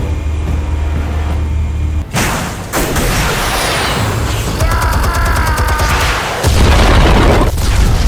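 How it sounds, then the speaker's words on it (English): Explosives detonating in the Batman Telltale game, heavy booming blasts breaking in after a low steady rumble, followed by crackling debris and further loud explosive surges. "Explosives armed. Fire when ready."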